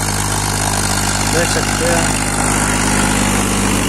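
Powertrac 434 RDX 35 hp tractor engine running steadily, a loud constant throbbing mid-range rumble close to the microphone, with someone briefly speaking over it.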